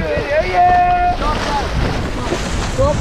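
Rushing water of the Kunhar River splashes and roars around a raft with heavy wind buffeting the microphone, loud and continuous, with faint voices underneath.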